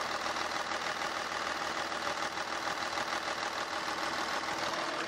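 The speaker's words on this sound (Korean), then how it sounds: "이 차량 바로 엔진 소리 한번 들려드릴게요." A Kia Mohave SUV, a large domestic family SUV, idles with a steady, smooth, broadband engine hum at constant level throughout, with no talking.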